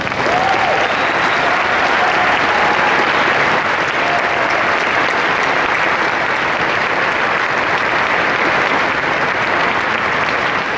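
Sustained applause from a large audience at a ceremony honoring young pilots, steady and dense for about eleven seconds with no break.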